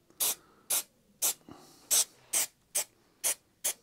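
Spray adhesive sprayed onto fabric for covering VW T5/6 A and B pillar plastic trims, eight short, sharp hissing bursts in a quick, fairly even rhythm, close and clear with no talking.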